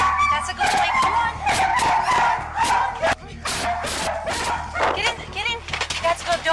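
Dogs barking and yipping with some whimpering at a fire rescue, as several dogs are loaded into a car; the barks come loud and repeated throughout, over a constant low engine-like rumble, while people coax them.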